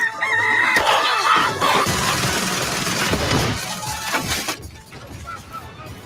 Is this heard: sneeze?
no